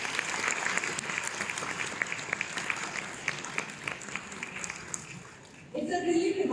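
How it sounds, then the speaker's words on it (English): Audience applause at a motivational address, many hands clapping in a continuous patter for several seconds, moderately loud, before it dies away and a voice begins speaking near the end. "Give yourselves a round of applause."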